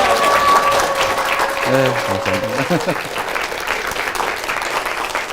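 An audience at Harvard applauds to welcome a mayor, a steady dense wash of clapping throughout, with a man's brief spoken thanks partway through.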